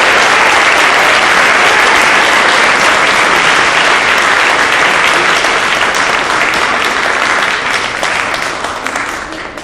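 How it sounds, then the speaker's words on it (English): An audience at a school world language awards night applauds the senior class of 2022, loud dense clapping that holds steady and then starts to taper off toward the end. "A round of applause to our senior members of the class of 2022."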